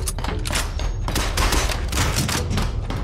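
Enemy gunfire rattles up through the floor in Shadow Complex, a dense, continuous burst of rapid shots with dull thumps, loud and close throughout.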